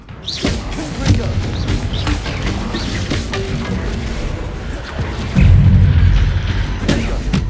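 Confringo fire-blast spell in Hogwarts Legacy gameplay, a series of booming impacts and crashes amid busy combat noise, with a heavier, louder blast hitting near the end.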